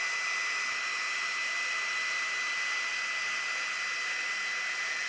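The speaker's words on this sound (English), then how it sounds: "I'm gonna go in with the GHD hair styler." GHD Duet hair styler drying hair, a constant airy hiss and whir at moderate volume, steady and unbroken throughout with no voices.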